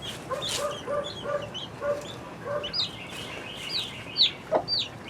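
A hen and two chicks cluck and peep in a repeated, soft rhythm of short calls, with higher chirps rising toward the end, close by and fairly quiet, with no talking.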